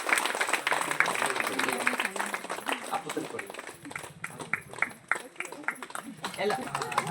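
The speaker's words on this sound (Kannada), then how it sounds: "ಜೋರಾದ ಚಪ್ಪಾಳೆ ಒಂದು ಬರಲಿ." Loud applause from an audience at an honouring ceremony, dense clapping filling the hall while voices talk over it.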